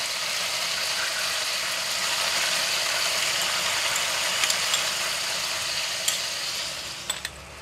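Bean sprouts hit a hot pan with sesame oil and oyster sauce in a pork shoulder stir fry, giving a steady, dense sizzle that holds at an even level throughout, with a few faint clicks near the end.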